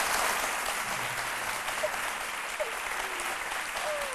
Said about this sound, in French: On applaudit très fort Méliane Cuny